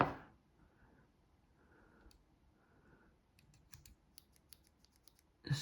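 Quiet, crisp metallic snips and clicks from small multitool scissors on a Leatherman Arc or Victorinox Spirit X opening and closing, close up, with a few soft rustles in between.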